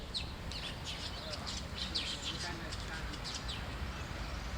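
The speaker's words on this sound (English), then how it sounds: "Birds are twittering and cheeping." Small birds twittering and cheeping in a tree, faint and somewhat distant, with repeated thin high chirps scattered over a steady outdoor background hiss.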